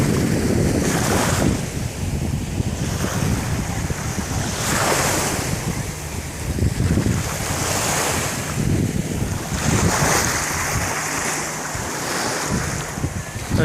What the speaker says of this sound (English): The water's a little more choppy than it usually is.